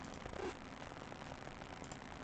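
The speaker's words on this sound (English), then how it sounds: "it's raining, it's a storm" Steady rain from a storm patters and crackles on a surface, a dense, even hiss of drops heard at a distance with no voices.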